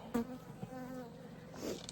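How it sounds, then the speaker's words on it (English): Bees buzz around a hive in a desert tortoise den, a close, faint, wavering drone with one brief louder pass near the start and another toward the end. "it does have a very nice amount of bees in it"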